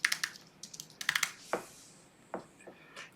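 Brisk keyboard typing into a search box, close and clear, in quick clusters of clicks followed by a few isolated key taps, with no speech.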